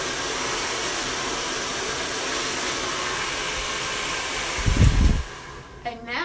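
A hair dryer blows over a round brush while hair is dried into a root lift, a continuous close airy roar with a brief louder burst near the end and a voice speaking faintly.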